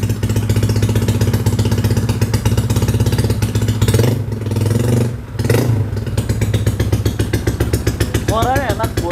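A Honda Vario motor scooter with an aftermarket exhaust runs close and loud with a rough, rapid throbbing exhaust, briefly revving and dipping midway before settling back to a steady rumble.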